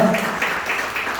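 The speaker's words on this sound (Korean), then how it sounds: "예, 박수로 잘 오셨습니다" Brief, steady clapping from a church congregation welcoming newcomers during a Sunday service, a short burst of dense applause.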